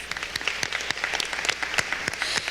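Audience applause at a family literacy program celebration, a steady patter of many hands with a few sharper claps standing out, moderately loud and continuous without pause.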